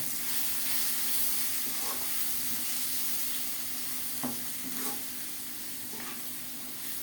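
Elephant foot yam fries with spices being stirred in, giving a steady broadband sizzle with a few soft spoon scrapes against the pan, close and continuous throughout.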